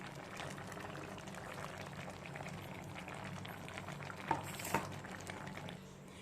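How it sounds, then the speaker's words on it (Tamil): Thick ground coconut paste going into a pot of simmering double beans kurma, a steady low bubbling with a couple of brief soft plops and stirring scrapes near the end. "இப்போ அரைச்சி வச்சுருக்க தேங்காவை சேர்த்துக்கலாம்"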